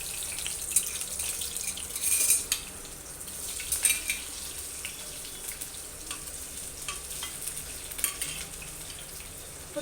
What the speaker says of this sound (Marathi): आपण कांदा टाकून घेतलेला आहे, ते आपण आता फ्राय करायचं